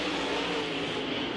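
Dirt late model race cars roar down the main straightaway at Eldora Speedway, a loud, dense engine drone with steady high-revving harmonics, close and continuous, with no voices over it.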